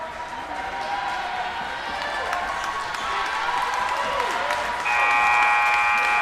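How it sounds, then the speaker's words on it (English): Saints fans in a gym cheer and clap steadily at a Canterbury versus St. George's Class B boys' basketball tournament semifinal, the crowd noise swelling toward the end beneath distant talk. "And we're hearing the Saints crowd now trying to hype their team up."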